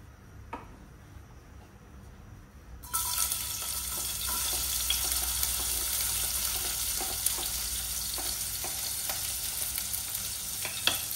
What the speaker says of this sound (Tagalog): So, ayan lang natin uminit ang mantika. Simulan na natin yung sibuyas.